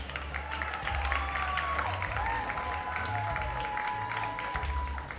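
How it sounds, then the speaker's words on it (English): An audience at a performing arts awards ceremony claps and cheers for a nominated high school, a continuous crowd wash of applause running throughout under a faint murmur. "Man, you can clap them, man."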